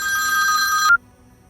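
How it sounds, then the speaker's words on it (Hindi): An electronic telephone ring trills steadily for just under a second, then cuts off abruptly into near silence. "विपुल का फोन है"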